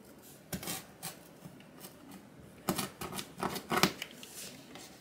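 Scissors cut through the bottom of a cotton shirt, giving irregular crisp snips and rustles of fabric up close, with a quick cluster of cuts near the end.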